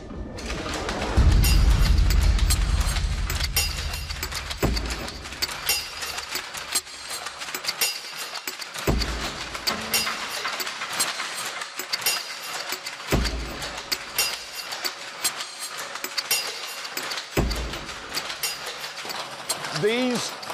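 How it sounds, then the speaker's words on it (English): Mechanical power looms weaving cloth in a mill, a clattering mechanical din with repeated heavy thuds spaced every few seconds and a steady metallic rattle, loud and close, with a narrating voice over it. "These are mechanical power looms."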